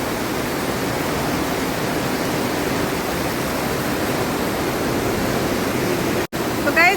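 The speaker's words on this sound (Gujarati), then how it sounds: "વરસાદ વધે છે જુઓ ધોધમાર વરસાદ આવે છે" Torrential rain in Modasa keeps up a loud, even rushing roar, broken by one brief dropout near the end, with a faint bit of handling noise after it.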